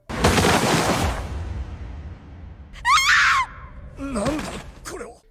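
Screaming in a Solo Leveling anime scene: a loud, sustained burst of anguished screams, then after a pause two shorter, wavering shrieks, with harsh noisy sound beneath.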